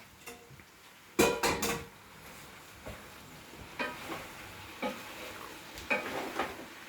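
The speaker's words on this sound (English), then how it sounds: "And then I'm going to add the pasta." Pasta being added to a cooking pot and stirred, a loud clatter of falling pieces followed by scattered scraping and knocking of a spoon against the pot, close by with no talk.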